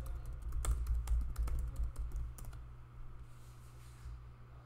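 Password typed on a computer keyboard during a Linux terminal vim install, a quick burst of crisp key clicks over steady low hum, tapering off toward the end.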